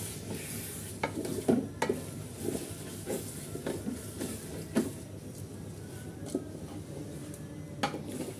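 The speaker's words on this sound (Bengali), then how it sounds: "রান্না হচ্ছে দেখি" Food sizzles and fries in a pan while a utensil stirs it, giving a constant hiss broken by repeated scraping clinks against the pot.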